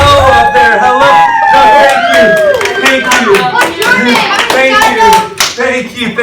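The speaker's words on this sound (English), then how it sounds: "You don't have to clap that much." Middle school students clap and cheer in a classroom during a wellness lesson game show, with loud close hand claps in bursts under excited children's voices and babble throughout.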